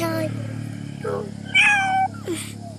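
A cat meows a few times in a short, close clip outdoors at a nature retreat, with a hum running underneath.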